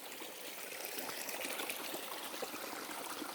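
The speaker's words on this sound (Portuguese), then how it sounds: "Tem um córrego passando aqui." A small stream, or igarapé, flows steadily through thinned Amazon rainforest, with a close, continuous trickling and babbling of water and no voices.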